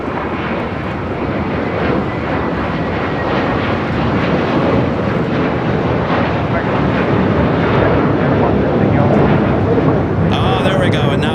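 Airliner departing LAX bound for Dallas Fort Worth, a loud, sustained jet roar filling the whole stretch without letup, close and dominant with no breaks.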